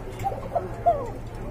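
Pair of thin-voiced running pigeons giving a few soft, brief coos, close but quiet against low background noise.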